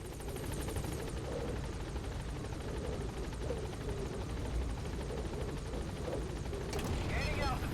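The Pequod helicopter in the video game Metal Gear Solid V: The Phantom Pain hovers at a landing zone, a loud, steady rotor drone throughout, with a voice speaking over it.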